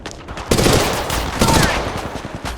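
Dense bursts of automatic gunfire in a shooter video game, loud and close, rattling in two heavy waves, with voice chatter mixed faintly underneath.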